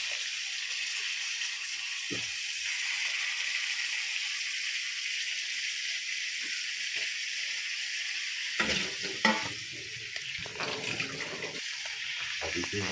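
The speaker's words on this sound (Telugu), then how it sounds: "ఇప్పుడు చికెన్ ముక్కలు వేసేద్దామండి" Chicken pieces sizzle steadily in a hot pan for a chicken curry, a bright constant hiss with occasional scraping stirs toward the end, as a voice speaks faintly.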